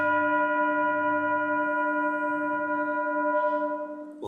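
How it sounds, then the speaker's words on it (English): A deep, resonant low-pitched meditation bell tone hums steadily with rich overtones, gently wavering as it sustains and slowly decays. "And we'll breathe out with the low bell,"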